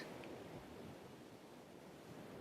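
Broadband wash of ocean surf, steady and fairly faint, with a soft low rumble and no voices, used as a sound effect within a narrated story.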